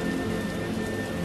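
A steady rain downpour wraps around a short stretch of audiobook narration, soft continuous hiss with faint pattering, even and unbroken from start to end, with no voice over it.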